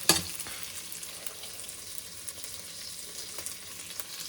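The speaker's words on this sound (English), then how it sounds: "when I render the fat out of the bacon, and you want to burn it" Bacon rendering its fat while frying in a wok for pasta carbonara, a steady close crackling sizzle with a sharp burst at the start and light stirring scrapes throughout, no talk.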